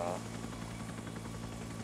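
Helicopter in Arma 3 hums with a steady low rotor drone and engine buzz, faint and continuous under the game's background.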